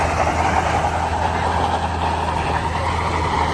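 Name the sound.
modified truck wheels spinning in tug of war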